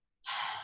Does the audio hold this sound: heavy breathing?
yes